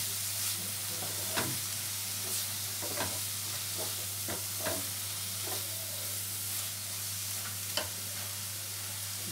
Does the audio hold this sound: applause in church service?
no